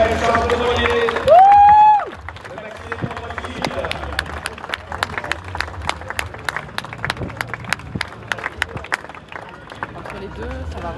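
Crowd applauding and cheering sailors Erwan Israël and Charles Caudrelier, starting after a loud whistle blast and a shouting voice and continuing as steady clapping mixed with crowd noise and a little speech.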